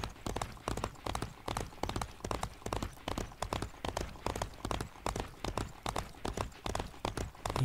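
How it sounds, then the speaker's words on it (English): Steady, rhythmic clip-clop of horse hooves in Frontierland, Disney Infinity 3.0, a quick even gait of sharp knocks repeating close and loud throughout with no talking. "You head back to the livery here and drop off my horse."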